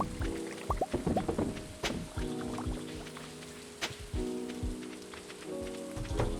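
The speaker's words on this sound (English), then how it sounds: "It's raining." Rain pours steadily in the video game Stardew Valley, a constant hiss and patter layered under soft tonal game music and occasional light effects.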